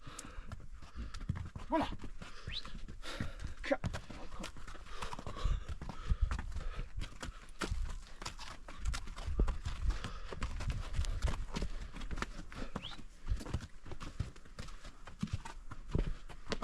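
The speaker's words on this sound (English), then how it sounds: "A big shout out to these donkeys, man." Donkeys walking a trail near Quilotoa in Ecuador clip-clop steadily, with a dense, irregular patter of hoof strikes close by and a brief spoken greeting.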